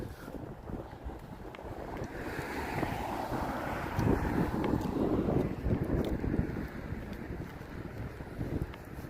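Ocean waves along the coast at Pacifica, a seaside town, heard as a steady wash of surf swelling louder in the middle, mixed with gusty wind buffeting the microphone and no talking.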